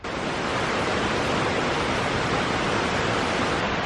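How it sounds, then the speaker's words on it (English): A waterfall beside the Samurai Trail, a forest hiking route in Japan, roars as a steady, dense wash of falling water, loud and close throughout, with no voices over it. "We're sitting by the waterfall to have some lunch."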